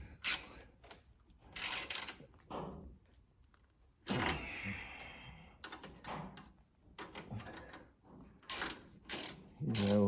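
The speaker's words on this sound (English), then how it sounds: "We're going to use a 1/2-inch wrench to finish it off" A 1/2-inch wrench ratchets on a shock absorber bolt of a classic American car, giving repeated close clicking bursts with metallic clanks and pauses between strokes.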